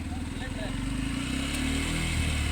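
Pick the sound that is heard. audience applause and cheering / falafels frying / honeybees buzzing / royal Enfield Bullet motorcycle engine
royal Enfield Bullet motorcycle engine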